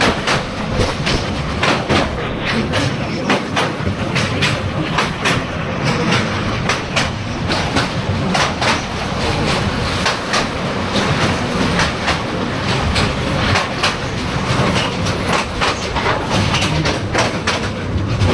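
A Karnaphuli passenger train rumbles steadily from inside a carriage while crossing a bridge over the Shitalakshya River, wheels clattering over rail joints in a continuous loud roar with no talking.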